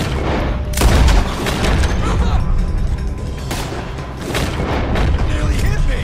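Gunfire and explosions rage in the video game Red Dead, with heavy booming blasts and rattling volleys of shots layered throughout, loud and close, while voices shout over the fighting.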